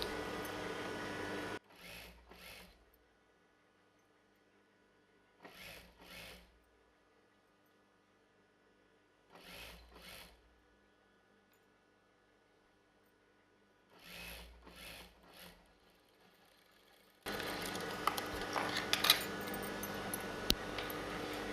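A sewing machine runs in several short bursts while stitching a chudidar sleeve, each burst a quiet whirring rattle separated by pauses, followed by louder, denser handling noise at the end.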